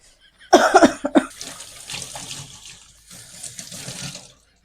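Water splashes and runs from a tap, starting with a few sharp splashy bursts, then a steady flow that stops abruptly.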